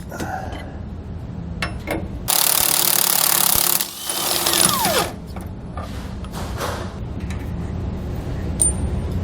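Removing bolts with a 1.5 inch socket wrench underneath a 2014 Thor Windsport motorhome, heard as a loud burst of mechanical rattling and grinding lasting a second or so, with softer clicks and metallic taps scattered around it.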